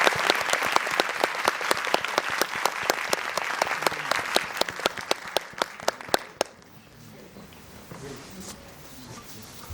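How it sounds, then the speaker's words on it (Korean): Sustained applause from a large cinema audience, dense clapping that fades to near quiet after about six seconds, leaving faint room noise. "큰 박수로 맞아주시고요."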